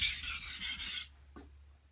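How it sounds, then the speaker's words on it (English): A knife blade rasps across a sharpening stone in about four quick, close strokes that form a burr, then stops, leaving a short faint scrape. "So, just about got the burr formed on both sides of the knife."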